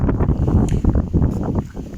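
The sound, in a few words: wind blowing outdoors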